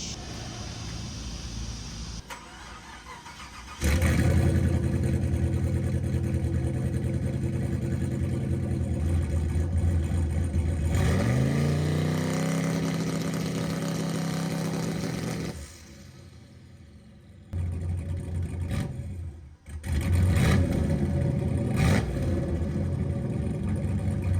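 A turbocharged car engine held on the brake to test an eBay air boost controller, roaring loudly with a rising rev, sustained strain, then cutting back to a rough idle with short blips near the end.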